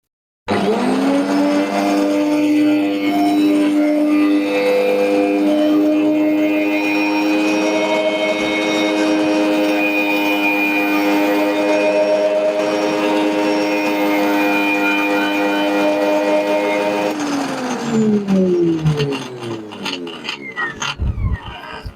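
A faulty, burnt-out Parkside PWH 2800 B2 electric branch shredder whines loudly with a high mechanical hum at unstable speed, then winds down and sputters unevenly near the end.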